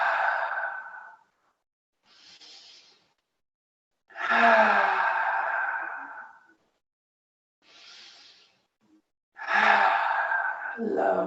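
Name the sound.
deep breaths during yoga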